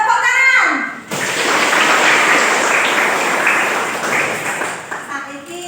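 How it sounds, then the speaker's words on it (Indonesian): A classroom group of students and teacher claps together, a dense burst of hand clapping that swells and then tapers, with speech heard briefly before and after it. "Paling kita tepuk tangan."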